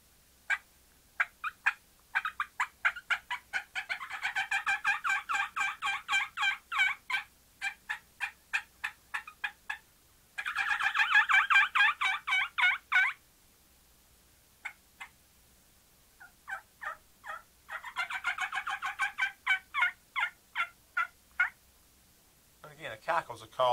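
A diaphragm mouth call imitates a turkey hen's cackle, giving rapid runs of sharp, excited clucks that speed up into dense bursts, loud and close, repeated several times with short pauses.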